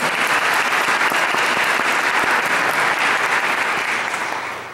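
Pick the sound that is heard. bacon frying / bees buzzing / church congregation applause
church congregation applause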